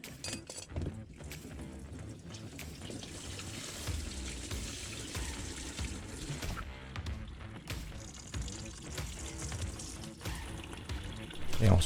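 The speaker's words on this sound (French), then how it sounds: "faut ouvrir la grosse durite qui se trouve en bas du radiateur, entre le moteur et le radiateur, et il faut laisser couler" Coolant pouring out of the large lower radiator hose on a Renault Mégane during a timing belt and water pump job, a steady splashing trickle with a few clinks, close by.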